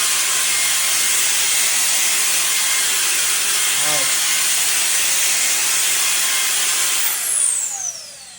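A Fanttik BF10 Pro handheld blower runs at full power, a loud, steady broadband rush of air that holds for several seconds before tailing off near the end.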